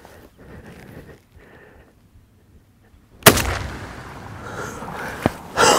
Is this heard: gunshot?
yes